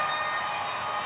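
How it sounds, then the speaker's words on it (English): A full-time siren wails at a Raiders v Titans NRL rugby league match in Canberra, a steady unbroken tone over low stadium crowd noise. "Siren sounds."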